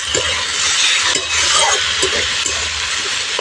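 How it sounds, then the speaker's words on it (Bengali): Potatoes and eggplant fry in a pan with a loud, close crackling sizzle. Scraping stir strokes sound at intervals throughout, with no talking. "বেগুন আর আলুটা এর মধ্যেই ভাজা ভাজা করে নেব।"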